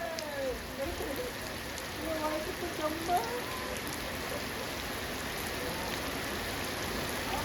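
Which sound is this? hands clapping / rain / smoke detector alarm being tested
rain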